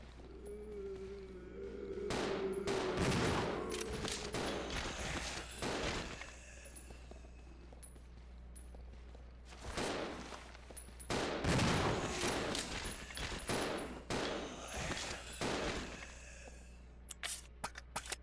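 Repeated bursts of gunfire in the video game Resident Evil 0, loud and close, firing in rapid clusters and sharp single shots with brief pauses between volleys, set against a steady low game-ambience hum.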